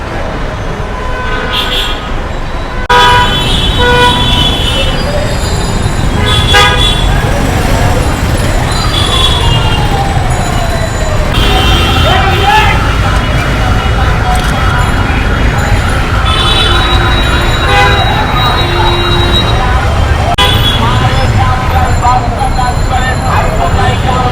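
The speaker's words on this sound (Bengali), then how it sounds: "শাহজাহানপুরের এই মোড়ে রেল লাইনের এখানে সবসময় এরকম জ্যাম লেগে থাকে" Gridlocked midday traffic at the Shahjahanpur crossing by the railway line in Dhaka, with repeated car and bus horns honking over a constant loud engine rumble, someone talking throughout.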